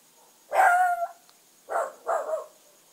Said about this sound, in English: I'm sorry if you can hear my puppy.